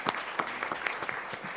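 An audience at a Palm Beach County school district gathering claps together, a soft, somewhat distant patter of hands.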